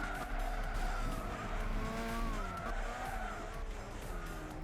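A race car brakes hard on a wet, rain-soaked track in Gran Turismo 6 on PS3, its tires squealing and skidding over a steady, loud engine drone that shifts in pitch, with no one talking throughout.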